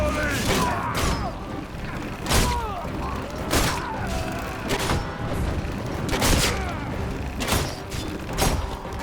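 Volley of weapon fire in the Roman combat game Ryse: Son of Rome, a string of loud booming bursts and thuds every second or so, with mechanical clatter and shouted commands between them.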